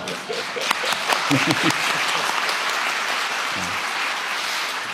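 An audience at a town hall meeting in Gyeonggi Province applauds the provincial governor with a full, steady roar of clapping from start to finish, briefly under a voice at the start.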